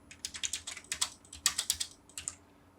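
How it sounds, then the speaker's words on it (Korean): Quick keystrokes on a computer keyboard spell out a short command, ending in a firmer Enter press; about a dozen crisp, close clicks in an uneven rhythm, with no talking. "LTS 입력하고 엔터 클릭"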